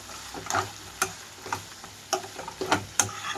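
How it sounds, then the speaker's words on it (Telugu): Chili masala paste being stirred into hot oil in a pan for a spicy chicken fry, with a soft steady sizzle broken by sharp spoon taps and scrapes at irregular intervals, close and fairly quiet. "ఇప్పుడు ఇందులోకి నేను రెడీ చేసుకున్న కారం మసాలా ముద్దని ఇందులోకి వేసేసుకుంటున్నాను. మొత్తం ఆయిల్లో కలిసేలాగా కలుపుకోవాలి."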